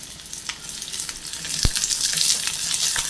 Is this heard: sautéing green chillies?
yes